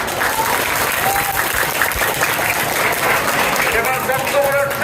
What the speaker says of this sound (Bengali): একটা করতালি দিয়ে অভিনন্দন জানাও।